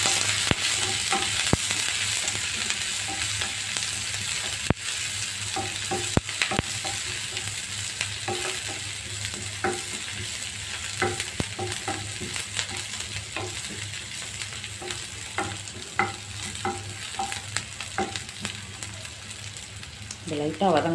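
Green chillies and curry leaves fry in a pan for snake gourd poriyal, giving a steady close sizzle broken by frequent scrapes and clinks of stirring throughout.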